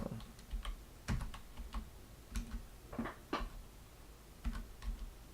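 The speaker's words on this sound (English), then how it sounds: "I also haven't used that Korean keyboard." Keys clack on a Korean-layout computer keyboard in short, irregular bursts of close, crisp keystrokes with brief pauses between, and no voices.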